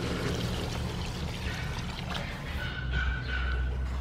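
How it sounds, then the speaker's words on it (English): Water poured into a pot of beef stew seasoned with star anise and leaves, a steady close pour lasting several seconds with a faint liquid trickle near the end. "Add some water."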